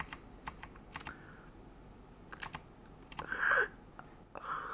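Computer keyboard being typed on, several short bursts of crisp key clicks separated by pauses, close and fairly quiet, with one slightly longer noisy press near the end.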